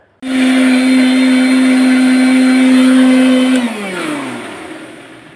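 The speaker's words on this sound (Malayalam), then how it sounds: "അപ്പോൾ നമുക്ക് ബ്ലെൻഡ് ചെയ്തിട്ട് വരാം." A mixer grinder blending coconut chutney whirs loudly and steadily for about three seconds, then switches off and winds down.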